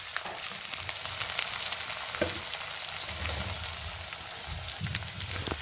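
Onions brown in a pan for panchmel dal, making a soft, continuous, rain-like sizzle with occasional low stirring knocks, fairly quiet and without speech.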